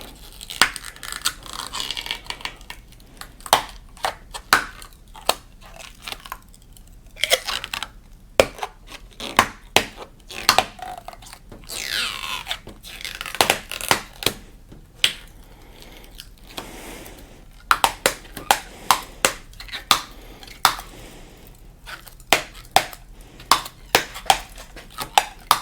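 Plastic dip film is peeled off a car emblem up close, with irregular crackling and tearing bursts and sharp snaps spread over a long stretch between quieter pauses.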